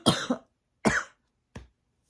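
Three separate dry coughs from one person close by, the first a double cough, then two single ones with short gaps, in an otherwise quiet room.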